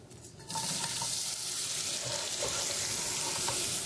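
Onion frying in olive oil in a home kitchen, a steady, fairly loud broadband sizzle that starts after a brief quieter moment and continues unbroken with faint crackles, with no talking.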